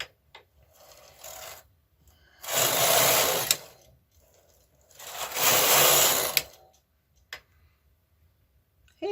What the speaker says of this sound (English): now we're going to knit many rows with waste yarn